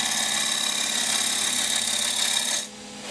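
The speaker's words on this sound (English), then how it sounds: "If you just tilt it a slight bit, you'll hear the cutting." A wood lathe turns a wooden sword blank while a turning tool cuts it, making a steady loud whirring hum with a hissing cut that stops abruptly near the end.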